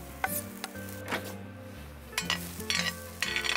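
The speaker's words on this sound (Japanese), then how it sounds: "スキレットにみじん切りにしたニンニクを入れます。" Minced garlic hits a skillet on a single camping burner outdoors, giving short bursts of sizzling and stirring with a few metallic clinks, over a low steady hum.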